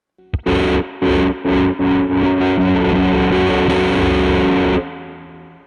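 Distorted electric guitar chord through a Dreadbox Treminator tremolo pedal at fast speed, pulsing in fast, regular volume swells, the throb evening out into a sustained wash before cutting off and ringing down.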